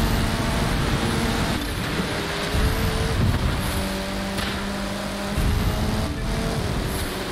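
A Mercedes C63 AMG Black Series accelerates in The Crew 2 racing game, a steady loud engine roar with gear-shift dips and rises running throughout, with no talking.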